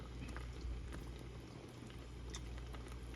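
Water heats in a pot for sinigang with a low, steady bubbling hiss and scattered tiny pops, fairly faint and unbroken.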